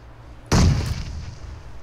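A grenade goes off in PUBG Mobile as one loud, close, sudden boom after a quiet start, then a rumbling decay that fades slowly, with no talking.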